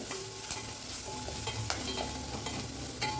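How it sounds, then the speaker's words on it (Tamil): Sizzling and crackling of cumin, pepper and garlic frying in hot oil, with occasional stirring scrapes, close and steady. "சீரகம் மிளகு பூண்டு இது மூலியம் போட்டு ஒரு வதங்க வதங்கட்டும்"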